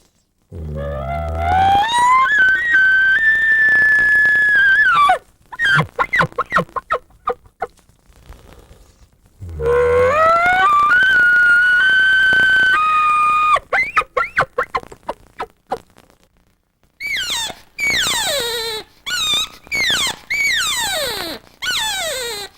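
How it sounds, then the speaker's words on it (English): Elk threat bugle: a long, loud, rising whistle that sweeps up and holds, then breaks into rapid chuckling grunts. A second bugle and chuckle follow, then a run of higher squealing calls. "the threat type of bugles would be classified as the classic type of bugle"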